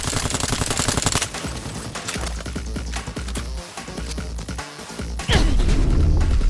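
Gun turrets open fire in the video game Dying Light 2, a dense, loud barrage of rapid gunshots with booming impacts and a heavier blast near the end, no speech over it.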